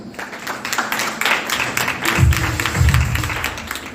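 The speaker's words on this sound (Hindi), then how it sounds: "उनके लिए जोरदार तालियां" Loud applause for a poet after his recital at a Friday meeting, a dense wash of many hands clapping that swells toward the end, with low rumbling thumps underneath.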